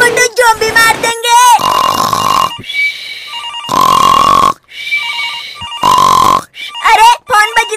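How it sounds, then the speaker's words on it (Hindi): Phone ringing in GTA 5, a loud electronic ringtone in repeated bursts alternating with gaps, with cartoonish voices talking over and between the rings. "अरे फोन बज रहा है।"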